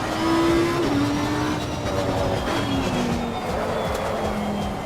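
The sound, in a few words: car tires scrubbing in the racing video game Assetto Corsa Competizione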